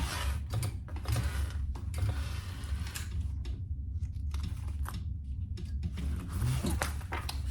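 Heavy metal purse zipper pulls clank and rattle against a sewing machine while a bag is stitched, a steady mechanical chatter with repeated sharp knocks, loud and close.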